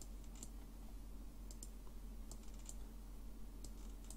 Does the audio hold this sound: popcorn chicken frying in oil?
no